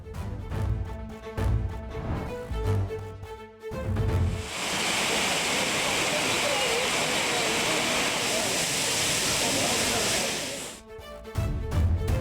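Roaring waterfalls at Courtallam pour down in a dense, steady rush of white noise for several seconds, loud and close, with a voice talking before and after it.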